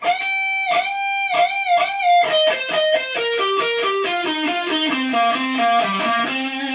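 Distorted electric guitar plays a solo alone, opening with repeated picked high notes, then a run of notes stepping steadily downward with sustained, effects-laden tone.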